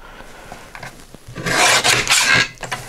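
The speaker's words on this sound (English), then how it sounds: "So I'm cutting this 1/8 of an inch smaller than the card base." Cardstock is cut to size for a recycled Christmas card, a short close scraping slice that swells into a bright rasping pass for about a second, after faint handling noises.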